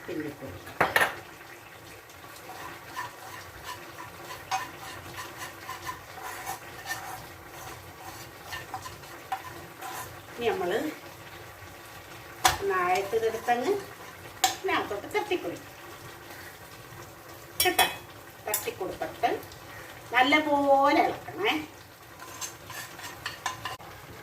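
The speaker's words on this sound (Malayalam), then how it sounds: "ഓക്കെ അപ്പം ഇതിനെ നല്ല പോലെ ഇളക്കുക" Pepper chicken ingredients being stirred and sautéed in a pan, with repeated metallic scrapes and clinks of a spoon against the pan and a light sizzle, while a person talks at intervals.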